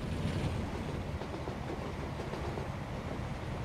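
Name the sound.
train passing in the video game Transport Fever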